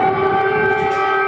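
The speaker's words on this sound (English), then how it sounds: "Air raid sirens sounding across the capital." Air raid sirens wail loudly across Ukraine's capital, Kyiv, in a steady, sustained drone, holding the same tones without a break.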